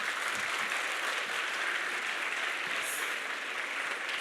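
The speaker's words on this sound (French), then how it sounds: "j'aimerais ça que tout le monde s'applaudisse et applaudisse les autres pour votre créativité." A crowd at a youth entrepreneurship challenge event applauds in a dense, steady roar of many hands that holds at the same level for about four seconds, moderately distant, with no talk over it.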